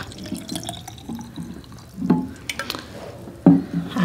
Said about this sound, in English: I'm gonna fill my bottle back up with some more water all the way to the top.